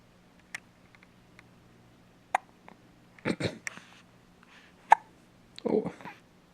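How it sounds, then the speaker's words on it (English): Baby hiccuping, several short, sharp hiccups spaced irregularly in a quiet room, with soft vocal murmurs and small clicks between them. "We felt you hiccuping just like this when you were still in Mommy's tummy."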